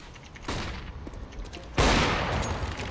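Video game gunfire on the Overpass map: a burst of rapid shots, then a louder, sustained volley that runs to the end, close and sharp with no talking.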